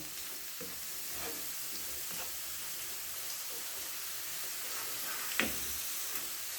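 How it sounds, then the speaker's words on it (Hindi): Garlic fries in a pan, giving a steady soft sizzle with a few brief scrapes and clinks of stirring. "लहसुन हमारा थोड़ा सा फ्राई हो जाए। लहसुन फ्राई हो गया है।"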